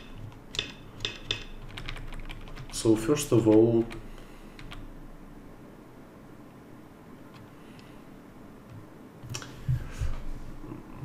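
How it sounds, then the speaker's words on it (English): Short bursts of keystrokes on a computer keyboard while reviewing a Go game, a few quick clicking clusters near the start and again near the end, interspersed with someone talking. "I can use a keyboard"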